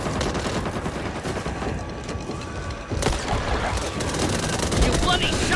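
Rapid, continuous gunfire rattles in the zombie shooter Back 4 Blood, dense bursts layered with mechanical clatter and loud throughout, with voices talking over the fighting.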